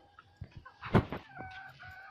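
Desi chickens newly brought to a poultry farm cluck and squawk in short bursts, with one loud close call standing out among the scattered, nearer and farther clucks.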